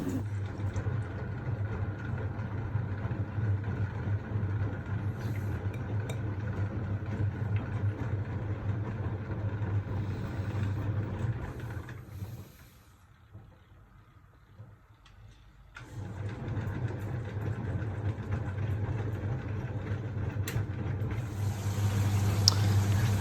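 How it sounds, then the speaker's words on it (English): Lemair WD800 washing machine drain pump running during a 95°C cottons cycle, a steady mid-low motor hum that briefly drops away to near silence and then resumes at the same level. "So here we go with the first drain. It's a very powerful pump."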